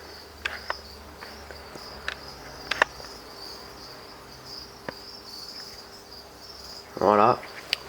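Captive crickets chirp steadily in egg-laying boxes at a breeding setup, a faint continuous high trill running through the whole clip, with a few soft clicks and a brief louder rustle near the end.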